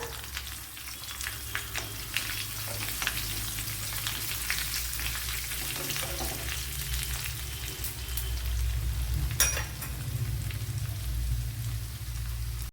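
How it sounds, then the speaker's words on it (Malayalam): Chopped shallots frying in a tablespoon of coconut oil give off a steady, close sizzle with light crackles and pops, and a few sharper spits rise near the end. "ഇവിടെ വൺ ടേബിൾ സ്പൂൺ വെളിച്ചെണ്ണ ഒഴിച്ചു കൊടുത്തിട്ടുണ്ട് അതിലേക്ക് ഇനി ഒരു രണ്ട് കൊച്ചുള്ളി കട്ട് ചെയ്തത് ഇട്ട് കൊടുക്കാം"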